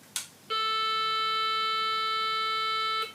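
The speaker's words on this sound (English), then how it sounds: "I'm going to tune to A440, which sounds like this." A single steady electronic A440 reference tone sounds alone and unchanging for about two and a half seconds, preceded by a brief click.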